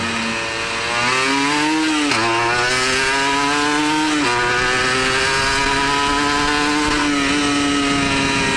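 Loud 1996 Honda NSR 150R two-stroke motorcycle engine while riding, a buzzing, rising whine that climbs through revs, drops briefly at gear changes around two and four seconds, then holds a steady high drone.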